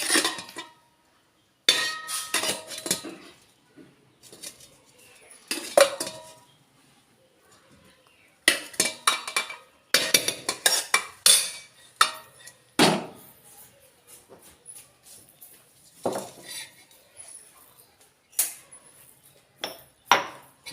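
A metal spoon scoops freshly cooked, steaming white rice from a pot in bursts of close scraping and clinking, with pauses between scoops and some talking.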